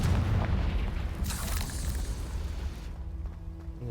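Confringo fire spell exploding in the Hogwarts Legacy video game, a dull booming blast with a rumbling roll that fades over a few seconds, under steady game ambience.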